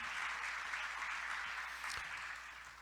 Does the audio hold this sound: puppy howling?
no